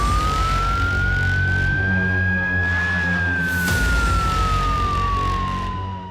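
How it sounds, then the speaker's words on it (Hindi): Police car sirens wail through Cornwall near St Ives, one loud rising-and-falling tone sweeping up and slowly down over a steady traffic rumble, close and continuous. "पुलिस की गाड़ियों के सायरन ने कार्नवाल में कोहराम मचा दिया।"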